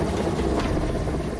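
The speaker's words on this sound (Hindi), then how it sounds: "सुबह वायुसेना का हेलीकॉप्टर मोर्चे पर उतरा" An air force rescue helicopter over floodwater in Chhattisgarh gives a loud, steady rotor and engine roar that fills the whole clip without a break.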